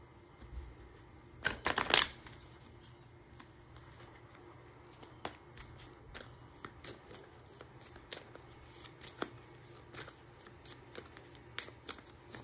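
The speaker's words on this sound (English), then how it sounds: "let's go ahead and get some cards from the Goddess Oracle" Goddess Oracle cards being shuffled and handled, a quick flurry of papery riffles early on followed by scattered faint taps and flicks in a quiet room.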